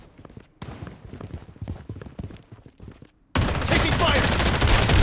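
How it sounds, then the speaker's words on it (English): Rapid bursts of gunfire from the Project Bloodstrike video game, uneven volleys of close shots for the first few seconds, then a sudden dense, loud roar of sustained firing that carries on to the end. "Taking fire!"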